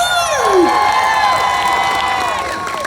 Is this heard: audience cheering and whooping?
yes